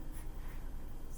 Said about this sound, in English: on the top right-hand corner, write the date